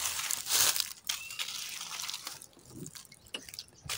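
Liquid fertilizer poured onto the soil around the main stem of a plant gives soft, irregular splashing and trickling. It is close but quiet, with a few faint crinkles.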